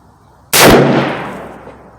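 A single loud, close shot from a Swiss K11 carbine rifle firing surplus military ammunition at a 100-yard range, with a sharp crack and a long echoing decay.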